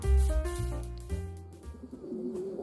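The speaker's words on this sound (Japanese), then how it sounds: "ハトと一緒に遊びましょう。" Racing pigeons coo nearby at a loft, with several low, throaty calls that overlap and then fade into quieter rustling and a few soft bird sounds.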